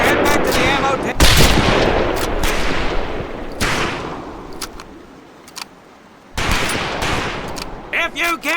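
Rapid automatic gunfire bursts in the Medal of Honor training range, loud and close, coming in several clusters separated by brief pauses.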